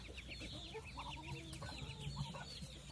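A homestead hen clucks softly and repeatedly with young chicks and ducklings around her, low murmuring calls over a faint chorus of high peeping, quiet and close.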